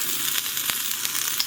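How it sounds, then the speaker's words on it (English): Food for spaghetti bolognese sizzles gently in a pan on very low heat, a steady close crackle with a few sharp pops, no speech. "I'm cooking them in a very, very low heat setting."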